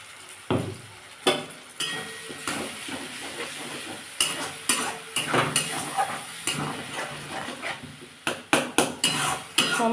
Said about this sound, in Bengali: সমানে নাড়তে হবে।